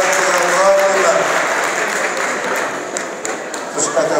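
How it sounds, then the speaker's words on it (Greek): A crowd at a 2015 New Year's pita-cutting gathering of an Epirus association in Lavreotiki gives a big round of applause, clapping steadily while voices and faint tones carry through it. "Και γι' αυτό μας ταιριάζει ένα ιδιαίτερο και μεγάλο χειροκρότημα."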